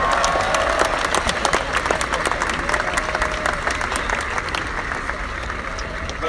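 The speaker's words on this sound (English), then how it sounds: "Give yourselves a round of applause." An audience at a Model 3 car delivery event claps and cheers, a steady wash of applause with a few whoops, sustained and fairly loud throughout.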